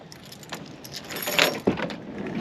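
Keys jangle close by while a van door is locked, light metallic rattles building to sharper clinks, over a faint background hum.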